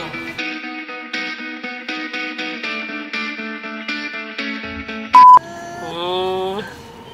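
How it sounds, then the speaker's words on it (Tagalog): A Toyota Avanza's horn beeps repeatedly in short, evenly spaced bursts, loud and close, then a rising electronic tone near the end. "Mahilig mong busina."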